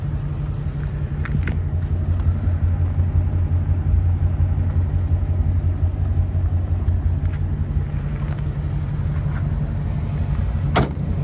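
A 1938 Ford convertible coupe engine idles steadily nearby, a low, even rumble with a strong pulsing tone that runs unbroken, with a few faint clicks and knocks over it.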